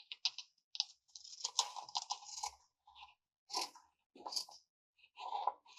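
Scissors snip and crunch through excess paper along a handmade calendar journal's spine, coming as short, close bursts of crisp cutting separated by brief silences.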